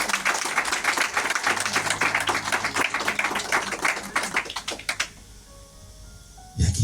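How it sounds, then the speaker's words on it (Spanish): A church congregation claps for about five seconds during a Spanish-language sermon, a dense, fairly loud burst of many hands that thins out and stops, followed by near quiet and a brief low sound at the end. "Denle un aplauso al Señor en esta tarde."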